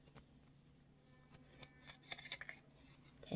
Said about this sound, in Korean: 가운데 반을 접고